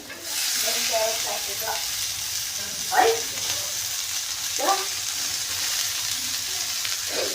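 A large tomato frying in a pan, with a steady broadband sizzle running throughout and a few louder stirring scrapes near the middle.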